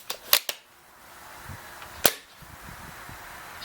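An ASG AW .308 Accuracy International airsoft sniper rifle fires 0.36 gram BBs, giving a few sharp, loud cracks: two close together near the start and another about a second and a half later, with no talk.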